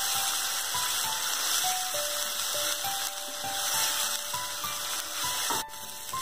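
Onions and whole spices fry in hot oil with a steady, close sizzling hiss that runs unbroken throughout, with no talk.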